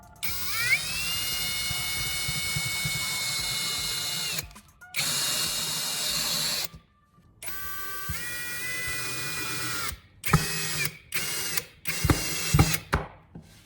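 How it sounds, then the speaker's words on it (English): A power drill drives screws into a wooden guide block in bursts: a long whining run, then several shorter spurts with brief pauses, close and fairly loud with no talking. "Hold it in place and drive screws through to lock the two pieces together."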